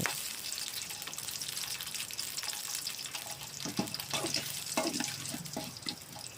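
An egg sizzles and crackles loudly in hot oil in a pan, with scraping and stirring noises breaking in toward the end.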